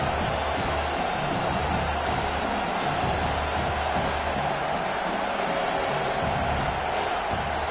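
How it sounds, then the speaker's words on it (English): A stadium crowd roars loudly through a college football game between FSU and South Carolina, a sustained wall of noise from tens of thousands of fans that barely lets up. "with this place rocking, the crowd forces a false start"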